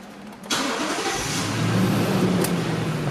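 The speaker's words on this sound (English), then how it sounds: "we'll start it up now. So, touch of a button." A Lexus LX570 starts by push button: a short crank catches, and the engine settles into a steady idle with a slight rev, close and clear, with no talking.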